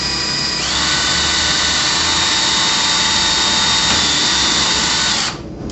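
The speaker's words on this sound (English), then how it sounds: "First, you take your drill with your drill bit" A loud, close power drill whines steadily for about five seconds while pre-drilling a hole to install shutters, its high motor tone holding level before cutting off abruptly.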